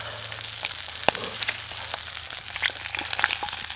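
Sausage and bacon fry crisply in a hot pan outdoors, a dense continuous sizzle with scattered sharp pops and crackles, close and fairly loud.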